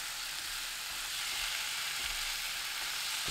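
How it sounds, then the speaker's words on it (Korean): Tofu stirred into ham and green onion in olive oil over high heat: a steady, close sizzle and crackle of frying throughout, with faint stirring and no talk. "2분 후 두부 넣고 대충 섞어줍니다."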